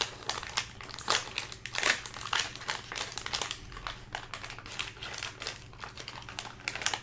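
Foil wrapper of a 2020 Gold Rush basketball card value pack being torn open at the corner, a steady run of close crinkling and crackling rustles with no talking.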